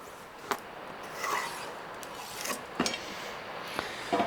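Pencil or marker rubbing across wenge wood to mark a center line for an SG guitar build, with several short scratchy strokes up close in a quiet workshop.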